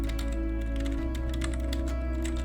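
Steady, rapid keystrokes on a computer keyboard as a search term is entered, close and continuous over a low background hum, with no voices.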